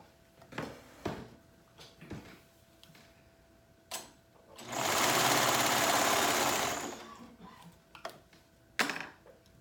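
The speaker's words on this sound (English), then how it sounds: "We're going to sew the ends together." A sewing machine stitching the ends of a fabric neckband together runs in one steady close whirring burst of about two seconds, framed by quieter handling clicks and fabric rustles.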